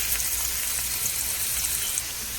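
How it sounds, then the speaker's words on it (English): Beef frying with onion in a pan, a dense steady sizzle at close range with no pauses or voices. "So now I'm going to add the beef. Right. Fry it up."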